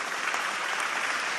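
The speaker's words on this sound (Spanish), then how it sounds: "Denle un aplauso al Rey" A church congregation claps steadily, a dense wash of applause sustained at even volume throughout.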